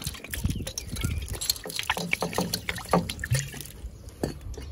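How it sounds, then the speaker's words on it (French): Water rinses off an item just cleaned in a DIY cleaning job, splashing and trickling steadily with scattered drips, close by with no talk. "tu viens avec de l'eau, tu viens rincer ton truc"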